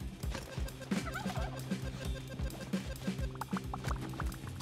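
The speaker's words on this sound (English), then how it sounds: "We'll stick these two turkeys right here." Turkeys in the video game Spelunky 2 gobble over a looping game soundtrack with steady, rhythmic pulses. The gobbles are bright and distinct and repeat several times, and no speech is heard.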